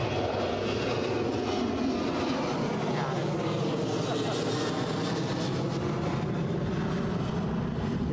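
A KLM airliner departs Newcastle airport with a loud, sustained broadband jet roar that stays steady and fills the whole stretch.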